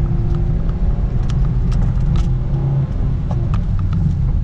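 A Honda Brio 1.3 hatchback labours in second gear up a steep road at low revs, a loud, steady, droning engine rumble with no letup.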